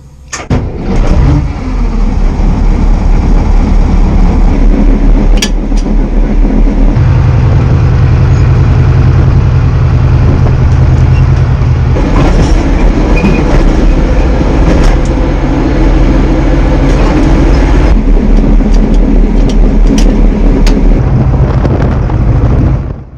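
An armored personnel carrier's engine starts up and runs loud and close, a heavy, rumbling diesel drone whose pitch shifts between idle levels as it keeps running.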